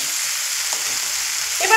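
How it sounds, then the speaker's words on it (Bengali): Fried potatoes stirred into sizzling spices in a pan for a rohu fish curry, a steady hiss of frying throughout with a brief scrape of stirring near the end, fairly close and with no talk. "এবার আমি এখানে দিয়ে দেব আগে থেকে ভেজে রাখা আলু, দিয়ে মশলার সঙ্গে একটু মিশিয়ে নেব।"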